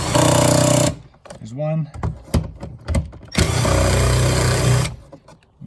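Power tool driving out Torx 30 bolts from the door of a 2004 Saab 9-3 during rear window regulator replacement: two loud, sustained whirring bursts with someone briefly speaking and clinking in between.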